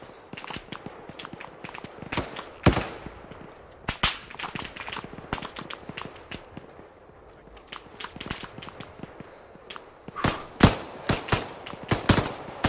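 RPK machine gun fire in the military shooter Arma 3, heard as scattered distant cracks and short irregular bursts of shots, with sharper nearer reports toward the end.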